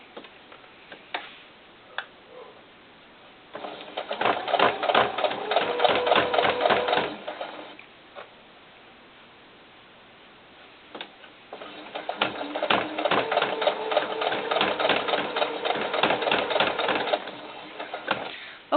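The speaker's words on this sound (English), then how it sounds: "I think I'm still sewing." Sewing machine stitching fabric for a doll's cowboy hat, running in two long bursts of rapid, even needle ticking separated by a quiet pause with a few light clicks.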